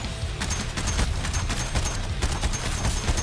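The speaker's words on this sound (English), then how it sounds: "I'm just spamming them all with my sniper, bro." Rapid sniper rifle fire in the video game Suicide Squad: Kill the Justice League, a steady stream of sharp shots with dense booming and crackling underneath, loud and continuous throughout.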